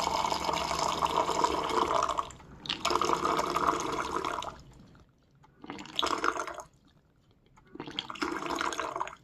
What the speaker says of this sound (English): now I have hot water dispenser here